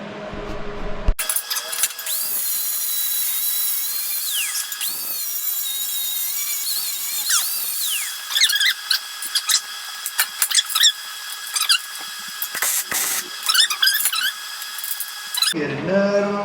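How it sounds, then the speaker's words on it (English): A drill bores a hole all the way through metal in a workshop, giving a loud high squealing whine that runs almost continuously with brief stops and bites, alone without talk. "now to get that hole drilled all the way through"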